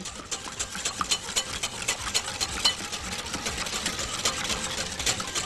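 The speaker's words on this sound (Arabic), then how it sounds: "وادي الحليب ونكمل ضرب" Milk and sugar whisked fast in a bowl for a quick chocolate cake: rapid, steady clicking of the whisk against the bowl, close and continuous with a slight pulsing rhythm.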